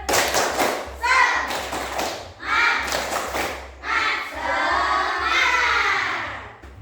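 A school class claps in rhythm as a group spirit clap, sharp thumps and taps in quick bursts mixed with loud chanting children's voices, stopping briefly between phrases.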